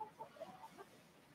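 Chickens cluck softly in a few short, quiet bursts close by, with no talking.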